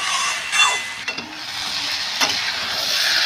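Rui fish head pieces sautéed in hot oil for a Bengali oil curry sizzle and hiss steadily, with a few scraping stirs of a spatula against the pan, close and continuous, with no voices.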